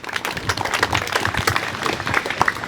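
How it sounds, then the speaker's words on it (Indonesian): An audience at a regional cultural parade coaching event in Gianyar, Bali, bursts into scattered applause, with many individual claps spread across the stretch at moderate volume, mixed with faint crowd murmur. "Tepuk tangan untuk beliau sareng-sareng"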